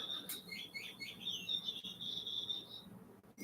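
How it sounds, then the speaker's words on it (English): A bird chirps a quick run of high, thin twittering notes, faint and somewhat distant against quiet background hum. "You hear that bird?"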